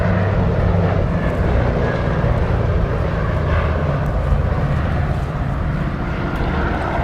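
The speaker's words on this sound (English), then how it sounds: "here we see the Catalina flying past us with the wingtip floats deployed" A PBY-5A Catalina flying boat with wingtip floats deployed passes overhead at an airshow at Duxford, its piston engines giving a loud, continuous, rumbling drone throughout.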